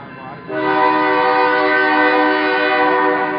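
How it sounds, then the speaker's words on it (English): A freight train's horn bursts in after a brief rumble and holds a loud, sustained chord close by while the train rolls past an outdoor evening assembly in San Diego. "Sorry about the train noise, guys."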